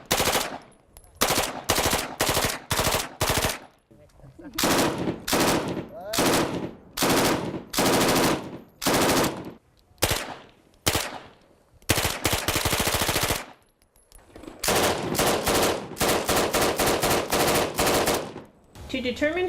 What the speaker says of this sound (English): all of our competitors have been given a chance to fire each weapon